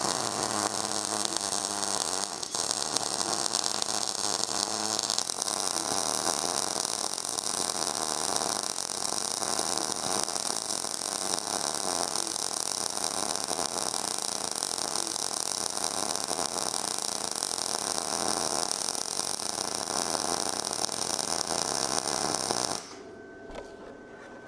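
MIG welding a T-joint with a YESWELDER YWM-160 multi-process welder set to 22.5 in smart mode, a steady loud crackling buzz running continuously for over twenty seconds before cutting off near the end.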